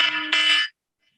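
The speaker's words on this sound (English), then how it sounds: "That's the alarm that I wake up to every morning" An alarm clock rings as a steady electronic tone in two joined bursts, the second slightly louder. It stops abruptly after under a second, leaving silence.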